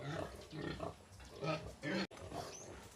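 Pigs in a pen in Adlaon, Cebu City grunt and snort up close in short bursts, mixed with nearby voices.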